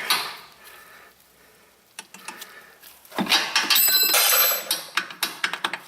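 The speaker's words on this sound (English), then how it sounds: "I don't mind ratcheting it in" A ratchet tightens the upper front strut bolt on a Volvo XC90, giving quiet scattered clicks that build into a louder run of rapid metallic ticking near the end.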